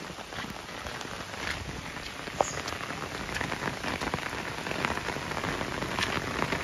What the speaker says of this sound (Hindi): अभी तो बारिश हो रही है